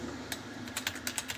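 Close, quick keystrokes on a computer keyboard click in a fast, slightly uneven series while code is entered, with no voices.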